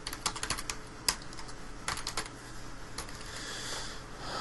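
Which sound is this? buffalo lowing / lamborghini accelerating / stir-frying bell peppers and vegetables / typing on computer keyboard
typing on computer keyboard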